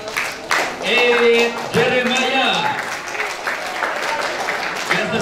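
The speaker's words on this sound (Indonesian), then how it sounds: "Mari kita sambut dengan tepuk tangan sekali lagi untuk" An audience at a church Bible month event applauds a performer with scattered, rolling clapping while voices speak over it and a short musical tone rings out.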